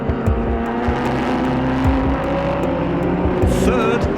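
Race cars, including an LMP3 prototype, roar off the line together at the Fuji race start, a loud, dense blend of engines revving and accelerating, with one car's pitch sweeping upward near the end.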